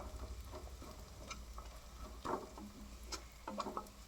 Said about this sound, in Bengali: তারপরে কাজুটাকে দিয়েও ভেজে নেবো।